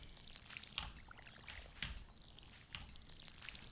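Water fills a watering can in the farming game Stardew Valley, a quiet, continuous pouring trickle with a few brighter splashy bursts.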